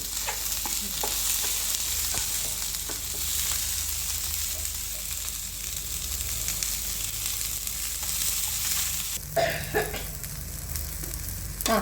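Green chillies, onion, garlic and ginger fry in a pan for chicken biryani, sizzling steadily throughout while a spoon stirs them with occasional scraping knocks.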